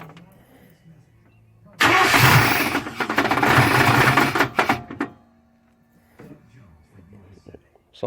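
A 1994 Chevy Z71 350 cranks and catches, roaring loudly for a few seconds with rough, uneven surges before cutting out, with faint voices around it.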